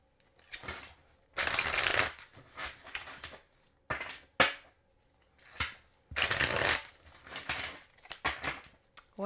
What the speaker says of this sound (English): This will be the last shuffle before we clarify.